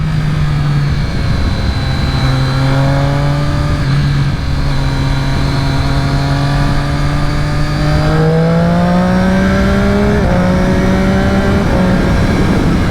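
A Triumph Daytona 675R sport motorcycle engine revs hard and climbs in pitch through several gear shifts, roaring steadily close by without any talking.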